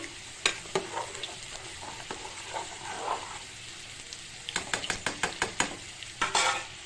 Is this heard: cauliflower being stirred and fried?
yes